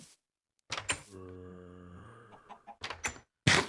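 Minecraft chickens clucking in short, close bursts, with a steady droning tone between the clucks and a few more clucks near the end; no talking.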